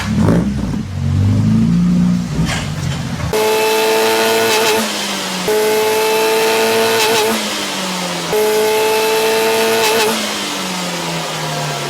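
A car fitted with a new Borla exhaust revs hard and close, with repeated rising engine notes holding steady pitches and dropping back between pulls, loud and alone.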